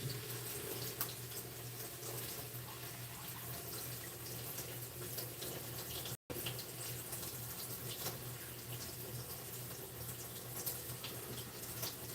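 Kitchen tap water runs steadily into a sink while noodles are rinsed, a constant close splashing rush that cuts out for an instant midway, with no speech.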